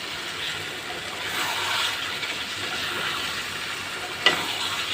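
Steady sizzle and scraping as fried chicken pieces are stirred into spiced masala in a hot pan for a Bengali farm-chicken bhuna, continuous and close, with one sharp clink near the end.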